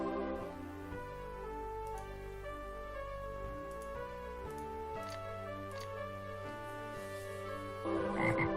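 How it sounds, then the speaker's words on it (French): Frog croaks from the video game Grimoire repeat steadily over layered tonal game sounds, fairly loud and continuous, with no one talking. "il y a des bruits de grenouilles"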